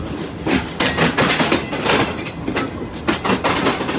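A train moving in Pakistan rumbles loudly and close by, with rhythmic clanking and clattering of wagons over the track and no voices.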